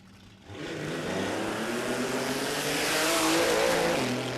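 A supercharged Holden red six-cylinder altered drag racing car fires off at Warwick Dragway, its engine roaring up suddenly and holding a loud, rising howl as it accelerates away.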